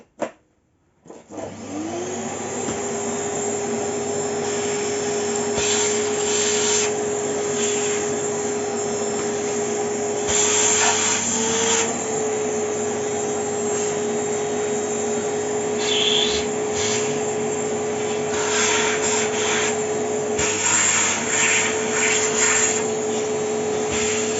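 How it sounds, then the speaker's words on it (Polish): Vacuum cleaner running on reduced power while cleaning a computer, a steady close whining drone after a brief start-up surge, with occasional rubbing and brushing noises as the nozzle moves over the machine. "czyszczę go w zwykły, zwyczajny sposób odkurzaczem, tylko na mniejszej mocy"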